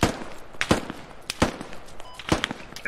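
Gunfire in the military shooter game Squad: several sharp, separate rifle shots ring out at irregular intervals, fairly loud, with no talking over them.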